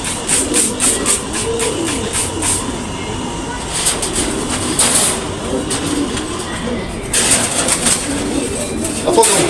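Pigeons cooing in a loft, a soft continuous murmur of low coos with wing and shuffling noises throughout, fairly close, under faint background noise.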